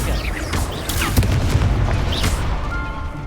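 Dense, continuous rumbling booms and crackling blasts of Confringo fire spells in the Hogwarts Legacy video game, layered with pops and swishes of combat effects at steady loudness throughout.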